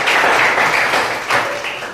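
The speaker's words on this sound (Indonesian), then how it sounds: "Ya, tepuk tangan untuk kita semua." Students in a classroom give a short burst of applause, close and fairly loud, dense clapping that swells twice and then tapers within two seconds.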